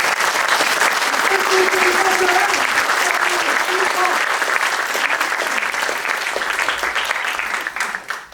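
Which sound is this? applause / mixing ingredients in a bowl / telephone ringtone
applause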